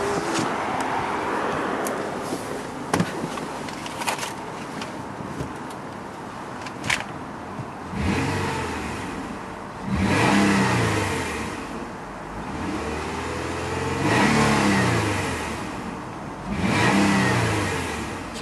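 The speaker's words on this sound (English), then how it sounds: "You can hear that very unique sound these engines make." Engine of a 2007 Nissan Murano SL AWD running, settling to a steady idle and then revving up and back down in several repeated throttle blips, heard close with no talking.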